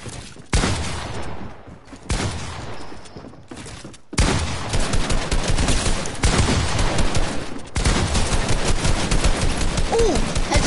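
Loud, sustained gunfire in a shooter video game, landing headshots in dense rapid volleys broken by a few brief pauses.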